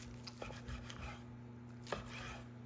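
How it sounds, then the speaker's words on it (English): A knife cuts down the center of a spatchcocked turkey to split the breast halves, giving quiet, close chopping thuds and one sharper knock on the board near the end, with no talking. "Cut down the center to separate the breast halves."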